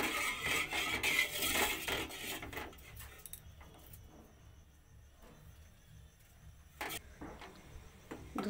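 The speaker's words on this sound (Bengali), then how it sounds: "দুধটাকে অনবরত নাড়তে হবে।" Milk with cardamom pods is stirred in a pot for a carrot sweet, with soft metallic scrapes and clinks of a spoon, fuller at the start and then quieter with sparse knocks, heard close and without talk.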